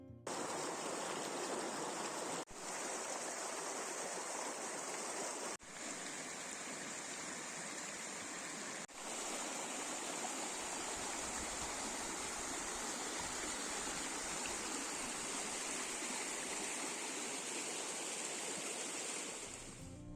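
A stream near Alaşehir flows as a steady, even rush of water, a constant broadband wash heard alone for the whole stretch, moderately close with no voices.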